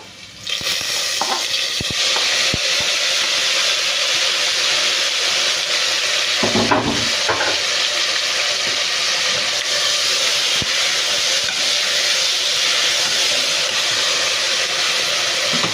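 Tomatoes and curry leaves frying in a pan for an Andhra-style dish, giving a loud, continuous sizzle with a few faint utensil clinks and stirring noises and no talk.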